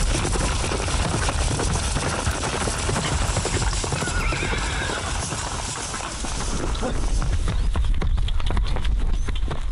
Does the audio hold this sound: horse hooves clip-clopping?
yes